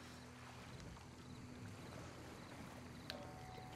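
Oars rowing a boat across a swamp in Red Dead Redemption 2, a steady wash of water and wind with faint rhythmic strokes under ambient tones, no talking.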